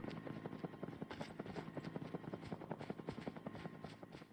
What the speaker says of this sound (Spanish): Escuchando un helicóptero